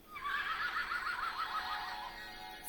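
A children's sound book plays a unicorn neigh: one recorded whinny, a rising then wavering horse-like call lasting a couple of seconds, fairly faint and alone.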